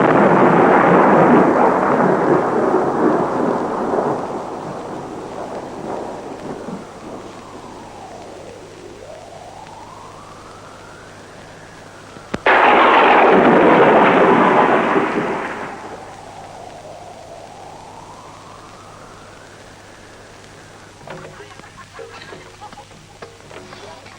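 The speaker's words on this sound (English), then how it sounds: "1 million drops of rain descend on the parched earth." Monsoon downpour with rolling thunder over parched farmland, two loud rumbling swells of storm noise, each fading slowly into a softer steady hiss of rain.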